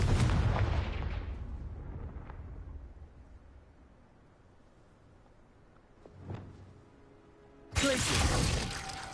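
A Confringo fire-blast spell in Hogwarts Legacy erupts as a loud, booming burst that decays into a low rumble, followed later by a smaller thud and then a second sudden, harsh explosive roar near the end.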